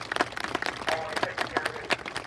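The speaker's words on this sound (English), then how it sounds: "So give them a big round of applause." Scattered audience clapping follows a call to applaud the tuba players at a high school marching band performance; individual claps stand out as distinct sharp hits, fairly close, with some background crowd noise.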